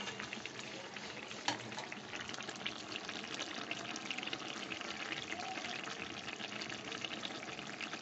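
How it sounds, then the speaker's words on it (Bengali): Eggplant slices frying in a pan of hot oil for a light, easily digested curry, giving a steady, even sizzle and crackle throughout with no talk over it. "বেগুনগুলো দিয়ে দিয়েছি"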